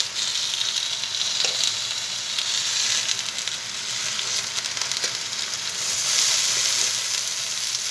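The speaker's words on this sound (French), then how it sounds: "on est pour pocher donc les oignons ainsi que l'ail" Onions and garlic sizzle steadily in a hot pan, a dense continuous frying hiss with occasional soft stirring scrapes, close and fairly loud, no talking.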